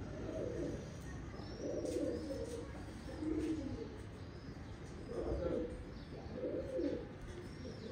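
Soft, low pigeon cooing repeats in a slow rhythm, several coos in sequence over a quiet background with faint chirps.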